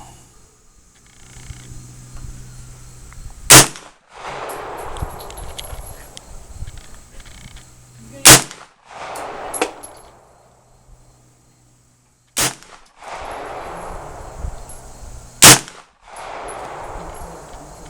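Test firing of a New Frontier AR-45 rifle: four sharp, loud reports spaced several seconds apart, each cracking out with a short ringing tail, over quiet background noise.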